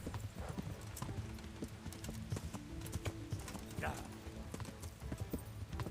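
Horse hooves clip-clop at a steady walking rhythm in the medieval game Kingdom Come: Deliverance, with a brief whinny partway through, all under someone talking over the gameplay.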